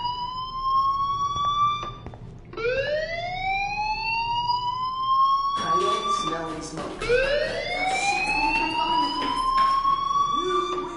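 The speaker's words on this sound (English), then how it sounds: "do you hear that fire alarm?" A fire alarm in the video game Life Is Strange sounds as a loud, steady electronic whoop, each tone sweeping upward and repeating roughly every two to three seconds with no break.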